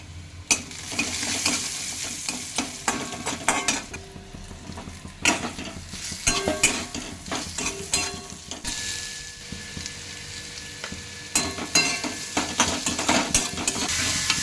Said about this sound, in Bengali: তাতে তো এরকম পেঁয়াজ রসুনটা ভাজা হয়ে যাচ্ছে